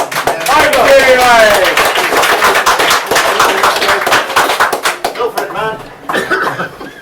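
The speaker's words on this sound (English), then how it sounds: "Round of applause." A crowd at an open-mic night in a bar in Limerick breaks into applause, dense claps and cheers filling the room, thinning out toward the end as the noise settles.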